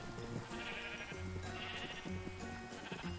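Sheep in the Minecraft video game bleat in a run of short, repeated calls over a few seconds, fairly quiet with no talk.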